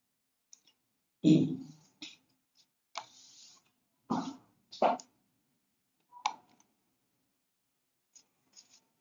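A computer mouse clicks a handful of times at irregular intervals, each click sharp and close against near silence.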